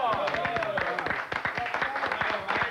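A crowd claps enthusiastically, a dense patter of hands with voices calling out and cheering over it, close and lively throughout.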